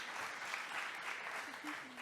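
Audience clapping at a French conference session, a dense, fairly faint patter of applause that runs throughout, with a voice talking briefly near the end.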